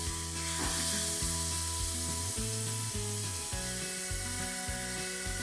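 Grated carrot sizzles steadily in melted ghee in a kadai while cooking carrot halwa, a continuous close frying hiss with occasional stirring scrapes, under a steady musical background.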